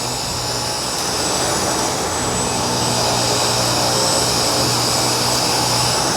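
A Dyson V10 cordless vacuum cleaner on a matted rug gives a loud, steady, high-pitched whine and airy roar, rising slightly as suction increases, with no talk.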